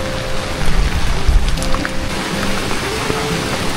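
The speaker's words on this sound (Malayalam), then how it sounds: "മഴ തുടങ്ങി." Rain falls near a bridge below the steps at a Ganesh temple in Amboli. It makes a steady, loud, close hiss of drops, with no voices.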